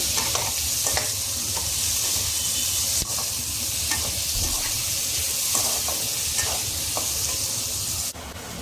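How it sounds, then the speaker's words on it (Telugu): Onions and capsicum sizzle and hiss steadily in a hot kadai for a hotel-style mixed vegetable curry, with soft stirring scrapes throughout and no talking. "కొద్దిగా క్యాప్సికమ్ స్మెల్ పోయేంత వరకు వేయించుకోండి ఫ్రెండ్స్"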